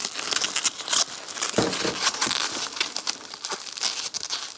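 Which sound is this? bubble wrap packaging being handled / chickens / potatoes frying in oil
bubble wrap packaging being handled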